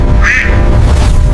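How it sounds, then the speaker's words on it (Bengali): A single short, nasal duck quack rises out of a steady, noisy background, with no other calls around it. "আহা! কি বড় হাঁস!"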